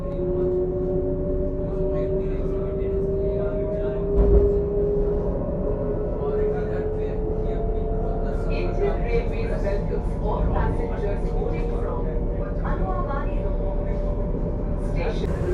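Howrah–Kamakhya Vande Bharat sleeper express running, a steady rumble and rail hum with a sustained tonal whine throughout, heard from on board near Siliguri heading toward New Jalpaiguri, with faint voices underneath.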